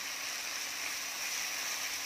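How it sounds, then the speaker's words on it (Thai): Steady broadband sizzle from a hot pan after a splash of water is added while stir-frying vegetarian pork for khua kling, even and continuous with no talk over it. "ใส่น้ำลงไปนิดนึงค่ะ"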